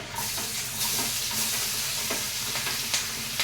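Onions frying in a pan, with steady sizzling and hiss and repeated scraping stirs over about three seconds. The sizzle is close and fairly loud, and no one speaks.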